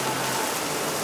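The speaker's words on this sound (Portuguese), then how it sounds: "a chuva tá forte ainda" Heavy rain pours down in a dense, unbroken hiss of drops on surfaces, steady and loud throughout, with no voices.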